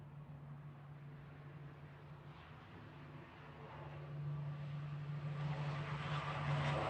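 A Logan Air propeller plane takes off at Manchester Airport, a distant droning roar with a steady propeller hum that swells louder toward the end, no voices.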